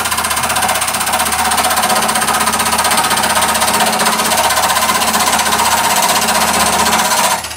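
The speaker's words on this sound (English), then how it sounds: "a little 1/8 parting tool, regular parting tool. And let's just do one simple cut now." A 1/8 parting tool bites into timber spinning on a wood lathe, giving a loud, steady, harsh chattering buzz that runs unbroken for several seconds before easing off at the end.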